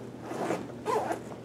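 A zipper on an Alps Outdoors Creek Pack, a padded Realtree camo hunting backpack, is pulled open in two quick, close rasping strokes with a brief pause between them.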